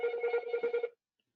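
A telephone rings in a short burst of rapid electronic trills at moderate loudness, then cuts off into silence, with no talk over it.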